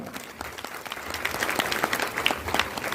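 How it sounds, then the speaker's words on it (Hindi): A seminar crowd at a DXN business event in India breaks into strong, sustained applause, many hands clapping close together and growing louder toward the end. "जोरदार ताली हो जाए।"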